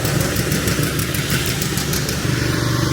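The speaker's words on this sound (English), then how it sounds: "Alright, we've let the auger warm up for 10 minutes." Small gas engine on a grain auger idles steadily after warming up in cold weather on a cattle farm, a continuous near, moderately loud drone with a faint rhythmic chatter.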